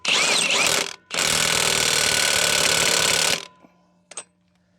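A Ridgid high-torque impact wrench runs at full power in two loud bursts, a short one followed by a longer hammering run of about two seconds, then cuts off leaving a faint tail and a brief click.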